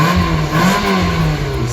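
A used Nissan car with about 142,000 km revs its engine loudly and close by, a sustained mid-pitched roar that swells slightly and holds for the whole moment.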